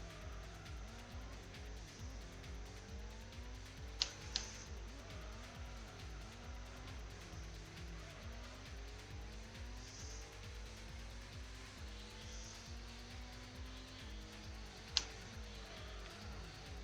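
Race cars lapping a track in the Gran Turismo video game, a continuous layered engine whine with rising and falling gear sweeps, a few sharp clicks, fairly quiet overall and without speech.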